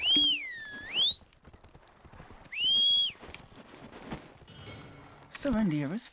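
In the online video game Black Desert Online, a sharp rising-and-falling whistle calls a horse and wagon back, followed by another whistle, soft hoof and wheel clatter, and a final whinny, with a voice talking underneath.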